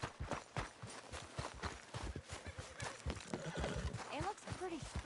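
Horse in Red Dead Redemption 2 game audio: clip-clopping hooves and a spooked whinny near the end, mixed under a man's spoken dialogue throughout.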